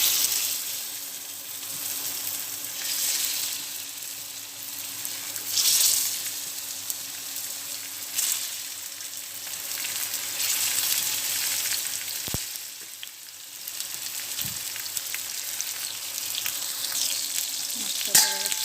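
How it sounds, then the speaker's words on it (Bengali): Spiced fish pieces fry in a wok, a steady crackling sizzle close up that runs throughout, with occasional utensil scrapes and clinks and no speech. "মাছটা পাশে ভাজা হয়ে গেছে"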